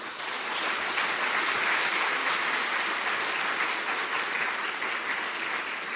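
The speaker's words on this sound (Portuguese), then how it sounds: "Aplauda a Virgem Maria." A church congregation applauds the Virgin Mary during a Lenten homily, dense continuous clapping from a large crowd, loud and even throughout with no voices over it.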